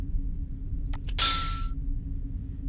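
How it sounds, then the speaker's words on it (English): A puzzle cue from the video game Myst: two quick tapping clicks, then a bright metallic ding with a bright airy swish that fades within about half a second, over a low steady hum. "Ooh, now we heard a ding and a swish."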